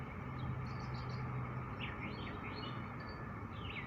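Birds chirp and twitter outdoors, small high calls scattered through the clip over a steady background hiss, fairly faint and distant.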